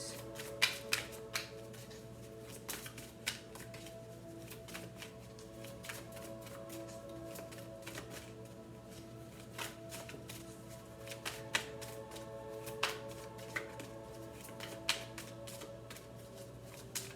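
Tarot cards are shuffled and drawn, giving soft, scattered taps and flicks at an irregular rhythm over a faint steady hum, quiet and close, with no talking.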